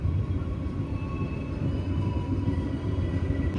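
KA Sri Tanjung passenger train running at speed near Mojokerto in Indonesia, a steady loud rumble of wheels on rails with faint tonal whine, heard from inside the carriage throughout.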